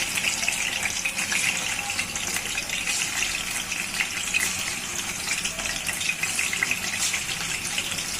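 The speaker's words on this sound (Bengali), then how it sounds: "এখন বিরিয়ানির জন্য বাড়তেছি গরম তেলে" Farm chicken pieces, rubbed with salt and chili, fry in hot oil for biryani, giving a loud, steady, hissing sizzle that stays dense and unbroken throughout.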